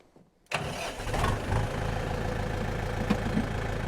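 Tractor engine cranks after a brief silence, then catches and settles into a steady, fairly loud idle that holds to the end.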